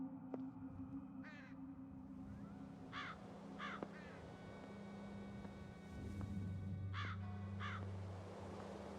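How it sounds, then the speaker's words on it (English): Large black crows caw in short harsh bursts near an isolated church graveyard, several calls spaced irregularly over a steady low background hum, moderately loud and with no talking. "Large black crows are watching me."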